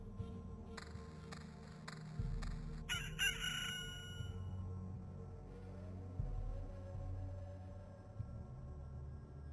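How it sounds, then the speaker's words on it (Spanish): A jelly creature in the game Loop Hero gives chicken-like clucking and crowing calls over low, droning game music, the bird sounds coming in short bursts near the start. "¿Por qué la gelatina esa suena como un... como una gallina?"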